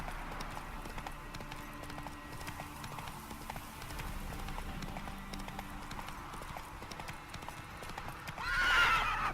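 A horse in the video game The Witcher 3 gallops with steady, rapid clip-clop hoofbeats throughout, and a whinny rises near the end over continuous game ambience.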